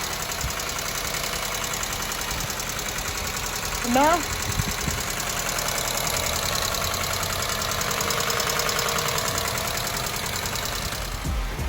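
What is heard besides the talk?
car engine idling after cylinder head port and polish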